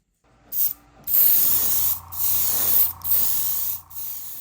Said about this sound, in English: Painting everything requires a layer of primer, especially on resin parts